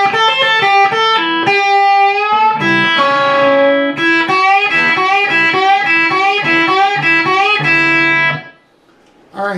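An electric guitar plays a solo motif at medium speed, a rapid run of picked notes that repeats briefly and then stops near the end.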